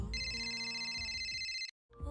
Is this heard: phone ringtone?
yes